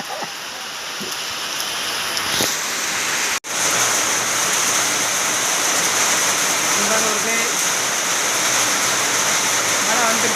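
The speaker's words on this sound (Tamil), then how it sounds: "மழை வந்துருச்சு" Heavy summer rain pours down steadily and loudly, a dense unbroken hiss after a brief cut near the start, with faint voices under it toward the end.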